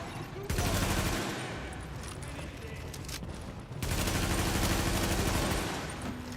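G36 assault rifle fire in The Division, with two long sustained bursts of loud, close automatic gunfire separated by a short gap.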